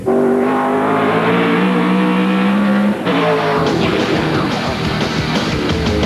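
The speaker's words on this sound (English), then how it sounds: "Wait till they see these big V8s. They just go so quick." Big Australian V8 race cars roaring past at the 1996 Auckland sprint races, loud and close, with a steady engine drone, a sharp gear change midway, then a raw rasping rush of another car.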